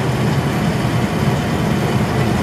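A train on a long-distance journey from Kakinada to Agra gives off a steady, dense rumble, heard close and continuous throughout, with no voices.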